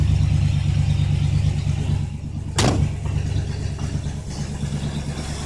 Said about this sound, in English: we got the school bus running now